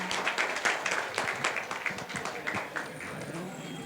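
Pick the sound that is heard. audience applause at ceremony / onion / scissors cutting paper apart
audience applause at ceremony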